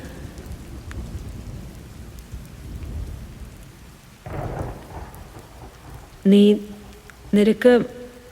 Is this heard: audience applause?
no